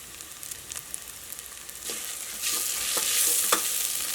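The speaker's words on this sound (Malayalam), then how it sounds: "ഇനി മഞ്ഞൾപ്പൊടി ഇതിൻ്റെ കൂടെ കിടന്നിട്ട് നന്നായിട്ട് മൊരിയണം." Onion with turmeric powder frying in a pan for Kerala egg curry, a soft sizzle that swells louder midway, broken by repeated scraping stirs of a spoon, with no talking.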